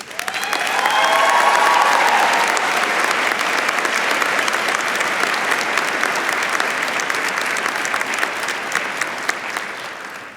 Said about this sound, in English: give those people in our lives who got us here today a resounding round of applause